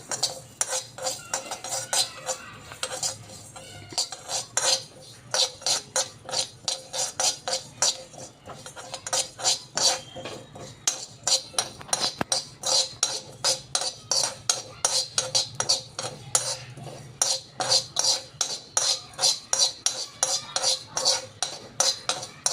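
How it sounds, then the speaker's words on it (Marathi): Fennel seeds and cumin dry-roasting in a pan, stirred with a metal utensil that scrapes and clinks against the pan in quick, steady, repeated strokes, close and fairly loud, with no talking. "तर आता ही सोप आणि जिरा थोडा भाजून घ्यायचा आहे आपल्याला, थोडासा 1 मिनिटापर्यंत"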